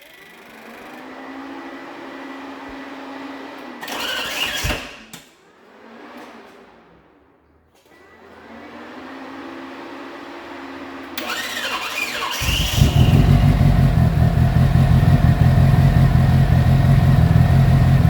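Suzuki GSX motorcycle engine on its first start, with repeated cranking and revving bursts broken by brief dips, then catching into a loud, steady, rough running roar for the last several seconds.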